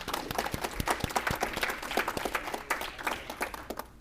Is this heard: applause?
yes